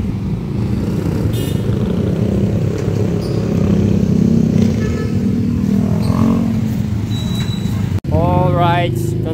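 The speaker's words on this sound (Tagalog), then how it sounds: "Ito na yung motor natin yan, Max." A motorcycle engine drones loudly and steadily close by, with a constant rumbling idle and road noise, while people talk over it.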